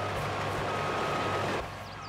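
A helper vehicle in Farming Simulator 22 driving and backing up, its engine rumbling steadily under a repeating reversing beep before the sound drops away near the end.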